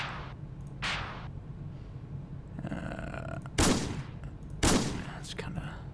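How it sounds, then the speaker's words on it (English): Gunfire in a Roblox video game, several sharp shots spaced a second or so apart over a steady background hum, fairly loud and close. "Shooting."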